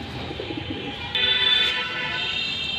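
Old-breed Shapchila pigeons coo softly in a low, murmuring background, with a brighter tonal call joining midway and continuing to the end.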